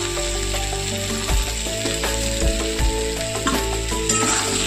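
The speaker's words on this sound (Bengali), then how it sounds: "এবার আলুটা খুব ভালো করে ভেজে দেবো।" Potatoes for a koi fish and raw banana curry frying in a pan, a steady sizzle running throughout with occasional clinks and scrapes of stirring over a constant background hum.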